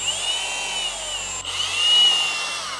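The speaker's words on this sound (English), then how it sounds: "I'm gonna drill a hole all the way through." A power drill bores a hole all the way through a homemade Dementor prop, whining steadily at a high pitch with a brief dip midway, then rising slightly louder, no talk.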